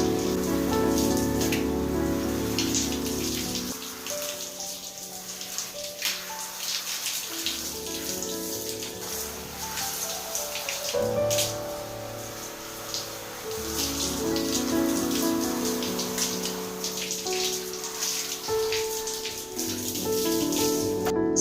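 Running water splashes steadily while hair is rinsed during a wash, a close, continuous spatter that shifts in texture as the flow is interrupted and resumes.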